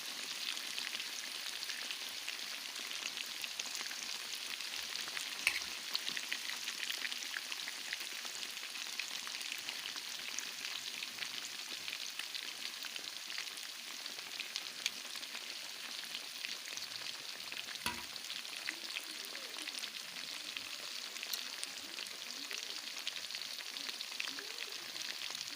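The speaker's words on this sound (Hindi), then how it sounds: "ये भी बैच फ्राई हो रहा है" Chicken wings deep frying in hot oil for crispy wings, a dense, steady crackling sizzle that holds evenly throughout without any voices.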